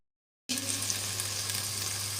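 Potato halwa sizzling steadily in a hot pan while being stirred, a loud continuous frying hiss that starts abruptly and holds even, with a low steady hum underneath.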